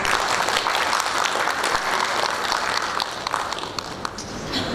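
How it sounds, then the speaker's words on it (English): Audience applause at an academic conference after a performance, a steady dense wash of many hands clapping throughout, easing slightly toward the end. "Give them a big applause."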